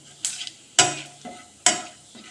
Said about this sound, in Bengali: তেলটা গরম হয়ে গেছে দিয়ে দিচ্ছি একটু জিরে দুটো ছোট তেজপাতা আর একটু গরম মশলা